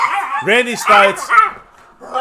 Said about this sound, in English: That's not a human. That's a dog doing that.